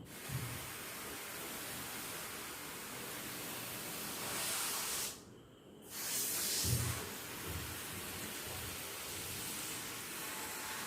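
Water sprayed over a freshly repotted Carmona (Fukien tea) bonsai forest: a steady, broad hiss of spray on soil, briefly stopping for a moment midway before it resumes.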